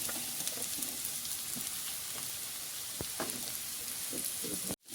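Carrots and potatoes sizzle in a pan with onions for a beef stew, a steady soft frying hiss with a few light clinks and pops throughout, cutting off abruptly at the end.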